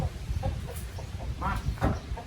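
Farm chickens clucking close by in a series of short calls over steady low background rumble.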